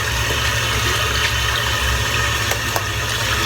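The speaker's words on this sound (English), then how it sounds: "Rinse the soap out now." Tap water runs steadily to rinse lather out of a shaving brush, a continuous close hiss and gush with no talking.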